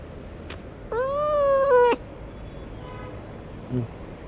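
Cat giving a single drawn-out meow, clear and fairly close, over faint background noise with a brief soft sound afterward.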